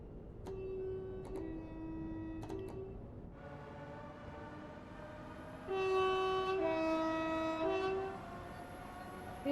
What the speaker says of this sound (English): let's have a go at the horn